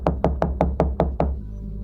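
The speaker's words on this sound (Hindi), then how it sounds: "जल्दी जाकर दरवाजा खटखटाया।" Seven sharp, evenly spaced knocks on an old wooden door, loud and close, each a hollow thud, followed by a faint low hum once the knocking stops.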